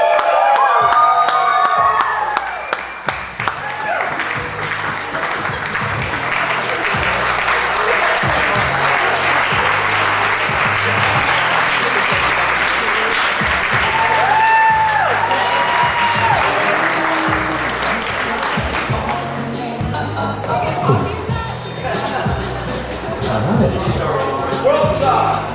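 Wedding guests at a reception applaud and cheer in a loud, sustained wave of clapping with shouts and crowd chatter, lasting the whole stretch.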